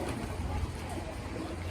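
Sea water surges in a rocky chasm along the Acadia coast, a low, steady rushing wash that holds at moderate level for under two seconds without distinct peaks.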